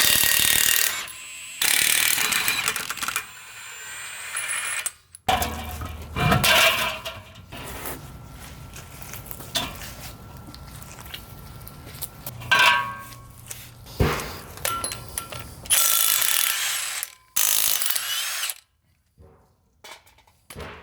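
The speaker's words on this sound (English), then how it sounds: "so we'll have to take the wheel off, then take the adapter off." A ratchet works the wheel nuts off a tow-rig truck in the shop, giving repeated bursts of loud, close clicking and whirring separated by short pauses, with no talk.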